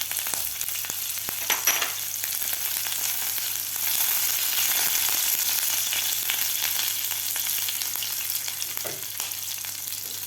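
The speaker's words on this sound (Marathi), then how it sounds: "कढीपत्ता आणि मिरची व्यवस्थित फ्राय झालेली आहे" Green chili and curry leaves frying in hot oil give a steady, close sizzle with crackling pops and occasional stirring, no voices present.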